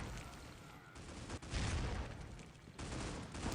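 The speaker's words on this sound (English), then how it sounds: "Frag grenade comes up." A frag grenade goes off in the mobile shooter Critical Ops during a tournament match, a distant, muffled blast and rumble amid ongoing gunfire, with the noise swelling and dipping across a few seconds.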